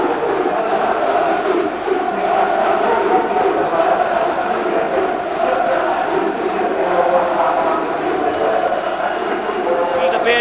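A packed stadium crowd at a 1993–94 Premier League match between Norwich City and Newcastle United, with fans applauding the visiting supporters: a steady roar of clapping and cheering that continues throughout, and a commentator talks over it.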